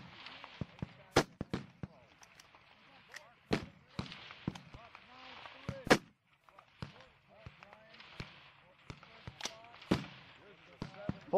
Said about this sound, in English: Shoot me another one.